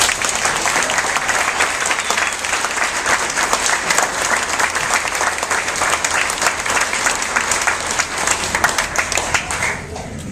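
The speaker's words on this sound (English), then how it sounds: "Please, give her a round of applause." An audience applauds steadily for the host's wife at an HQ opening event, with sustained crowd clapping throughout and no talk over it.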